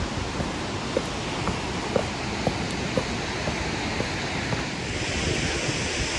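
Sendan Falls at Gokanosho, a waterfall about 70 metres high and 3 to 4 metres wide, roars as a steady broadband rush of falling water, continuous and fairly loud with no voices.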